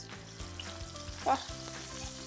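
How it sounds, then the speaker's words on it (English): Quiet, steady sizzling of chicken pieces pan-searing in hot oil, with a few soft clinks and stirring knocks, one slightly louder burst near the middle. "The sizzle, can you guys hear the sizzle?"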